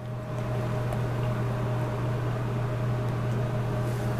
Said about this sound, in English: we're waiting for the cake in the microwave